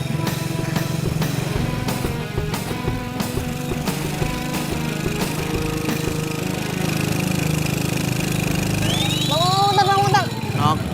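A motorcycle engine strains under load, its revving drone running steadily while people talk over it in Indonesian. Near the end a sharp rising whine cuts in briefly.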